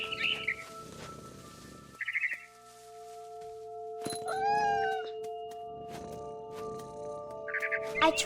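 A cat's meows from the video game What Remains of Edith Finch, a rising call in the middle with brief high chirps around it, heard over sustained game music tones.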